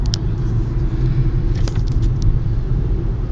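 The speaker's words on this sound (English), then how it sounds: "I'll let you guys see a little view of the awful traffic I'm in" Road traffic near the 101 freeway rumbles heavily from inside a car, a steady low engine drone with faint passing-vehicle swells and no talking.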